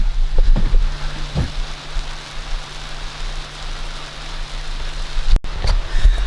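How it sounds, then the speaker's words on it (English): Rain falls on a sailboat, heard from inside near an open window: a dense, steady patter with a few close knocks and thumps over the hiss. "it's starting to rain upstairs"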